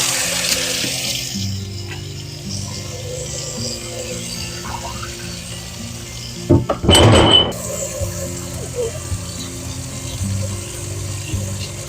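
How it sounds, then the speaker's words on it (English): Water runs and splashes steadily as glass jars are washed, with clinks of glass, swelling into a louder, brief gush midway before settling back to a running trickle. "the first thing I'm going to do is wash my jars"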